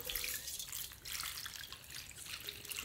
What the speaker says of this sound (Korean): 소금이 다 녹을 때까지 살살 위에서 이렇게 부어주세요.